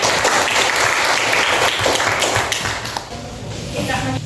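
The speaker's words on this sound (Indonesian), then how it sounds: "Tepuk tangan." Classmates applaud in an accounting lesson, a brisk burst of clapping from a small group that thins out toward the end as voices begin to murmur underneath.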